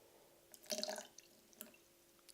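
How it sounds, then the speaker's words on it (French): Apple cider vinegar poured into a cold soup makes a short, faint trickle with a couple of small drips, quiet and close with nothing else heard. "Après, on va rajouter un peu de vinaigre de cidre de pomme, un aliment fermenté."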